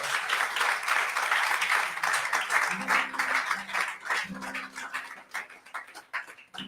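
A church congregation applauds during an evening family service, a sustained crowd of clapping hands that thins and becomes more scattered, with a brief voice or tone emerging midway.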